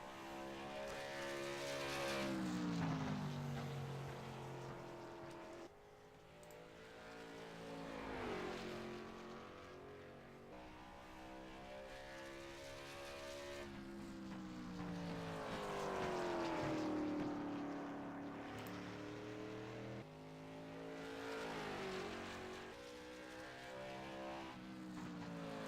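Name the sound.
race cars driving laps on a track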